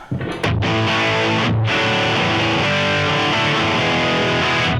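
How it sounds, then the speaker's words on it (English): An electric guitar through a Boss OD200 on its X distortion setting, a modern mid-pushed distortion, plays loud, thick chords that ring out after a couple of quick opening stabs. "Very kind of modern sounding mid-push distortion."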